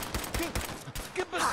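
Gunfire in Fallout 4 during a Minutemen mission, a quick series of irregular shots and impacts, close and fairly loud, with bits of game voices mixed in.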